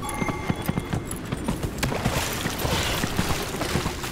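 Horse hooves clip-clopping at a smooth riding pace in Dragon Age: Inquisition, a steady rhythmic patter of close hoofbeats over a soft wash of ambient game sound, no talk.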